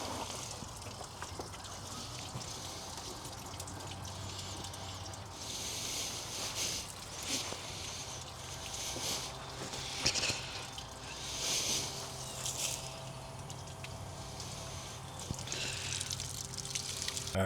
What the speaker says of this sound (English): You guys see all that gunk that's coming out of here? I got my reservoir open, well, my drain plug open on the bottom.